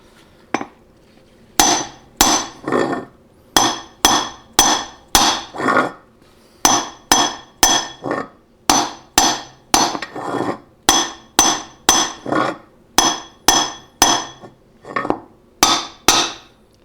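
A hammer strikes a piston during a 700R4 automatic transmission rebuild, giving sharp metallic taps in quick bursts of two to four blows, repeated steadily and loud, up close, with no talking.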